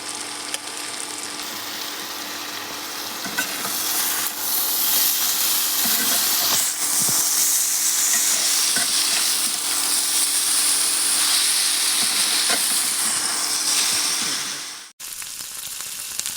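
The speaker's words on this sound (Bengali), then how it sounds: "পেঁয়াজ আর আলুটা হালকা লাল হয়ে ভাজার পরে আমরা ওই সেদ্ধ করে রাখা ইঁচড়গুলো দিয়ে দেব।" Jackfruit, onion and potato fry in a pan for a Bengali prawn curry, with a loud continuous sizzle and scattered scraping stir sounds, close and steady, then a brief break near the end.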